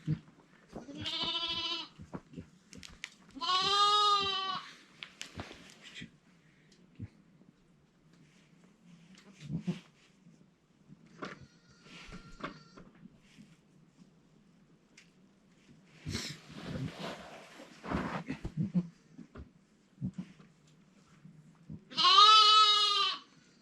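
A goat bleats loudly several times, with long quiet gaps filled by soft shuffling, rustling and small knocks close by.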